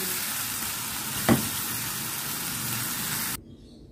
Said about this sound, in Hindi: और अब इसको नॉर्मल तरीके से फ्राई कर लेंगे,